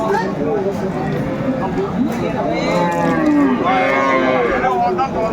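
Dairy cows and calves at a rural cattle market in Dinajpur, Bangladesh, moo repeatedly with long, drawn-out calls. They sound over a busy, crowded background of murmuring voices.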